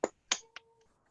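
Three or four crisp finger snaps in quick succession, close and fairly quiet, offered as applause in an online meeting; a faint brief tone lingers after the final snaps.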